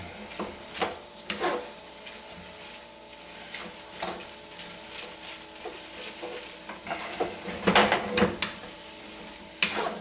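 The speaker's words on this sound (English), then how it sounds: "Get all that saucy together. All those prawnies together. All those peppers together and the onions and everything." Prawns with peppers and onions sizzle in a pan and are stirred, giving a soft, continuous fry broken by irregular scraping and clinking strokes.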